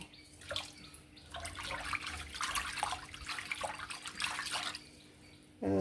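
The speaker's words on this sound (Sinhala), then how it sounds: "මේ ගාන විතර වතුර දැම්මම නම් ඇති" Water is poured steadily into a rice cooker pot, a close, continuous splashing rush that lasts about five seconds before a louder knock at the end, with no talking.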